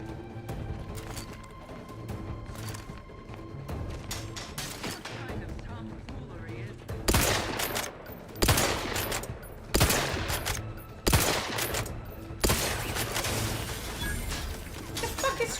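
Bursts of video game gunfire in The Outer Worlds 2, with rapid shots and several loud, sharp volleys in the second half, and a voice talking partway through.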